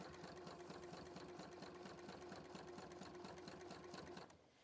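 A sewing machine, a 782 model, runs steadily at speed with a fast regular stitching rhythm and mechanical whir, then stops near the end.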